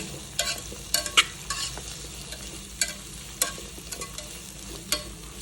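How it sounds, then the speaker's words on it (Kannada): Onion, garlic and tomato frying in a pan with a low steady sizzle, punctuated by sharp, close clicks and scrapes of a spatula stirring at irregular intervals. "ಗಾರ್ಲಿಕ್ ಆ್ಯಂಡ್ ಟೊಮೆಟೊ ಎಲ್ಲ ಹಾಕಿಬಿಟ್ಟು ಚೆನ್ನಾಗಿ ಫ್ರೈ ಮಾಡ್ಕೊಬೇಕು"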